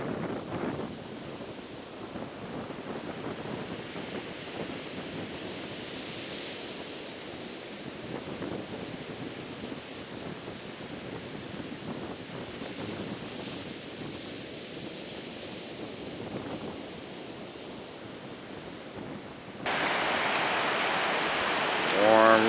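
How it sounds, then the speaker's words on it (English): Ocean surf rolls onto a Fire Island beach, a broad, continuous wash of waves mixed with wind buffeting the microphone, growing noticeably louder and rougher in the final seconds. "Some decent waves."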